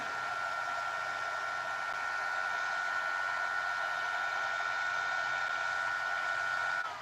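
The cooling fan on a variable frequency drive gives off a steady, high-pitched whine over a bed of airy hiss. It holds constant at moderate volume and cuts off abruptly at the very end.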